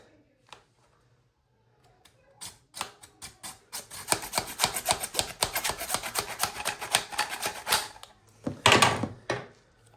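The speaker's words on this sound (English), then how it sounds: "So, got my little saw here. Go ahead and cut it." A small hand saw cuts through a bathroom faucet pipe, starting with a few scattered taps, then a rapid run of rasping back-and-forth strokes and a final louder burst, close up and without speech.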